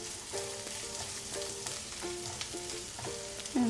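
Soya chunks roasting in a pan toward a golden colour make a faint, even sizzle with occasional stirring, fairly quiet and with no talking.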